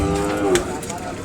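An Ongole calf at a cattle market gives a short, close, nasal moo lasting about a second amid general market background noise.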